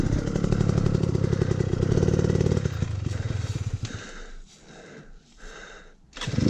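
A motorcycle engine labors loudly with a rough, pulsing idle-to-throttle chug as it rolls over rocks on a steep hillside, then drops to quieter sputtering bursts and heavy breathing before revving up again at the end.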